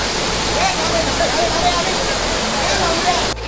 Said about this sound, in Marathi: तर हे बघा तुम्ही बघू शकता वॉटरफॉल